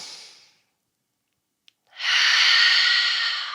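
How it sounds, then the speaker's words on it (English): A deep inhale during a vinyasa yoga flow, arms reaching back with fingers interlaced: a tapering exhale, a brief pause, then a long, steady, close breath drawn in alone. "breathing in, inhale."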